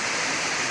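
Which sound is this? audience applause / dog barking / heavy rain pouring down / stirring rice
heavy rain pouring down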